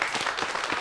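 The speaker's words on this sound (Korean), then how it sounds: "박수 한번 쳐주세요." Brief burst of audience clapping at a startup founder's talk, with individual claps audible in a dense, even patter.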